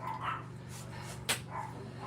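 Dogs indoors bark several times at someone at the front door, a few sharp yips and barks spread over two seconds, moderately near, over a low steady hum.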